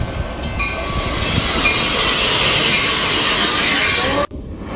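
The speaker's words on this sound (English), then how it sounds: "All aboard 210 train." A train rumbles past close by, a steady broad roar with metallic rattling that cuts off abruptly near the end.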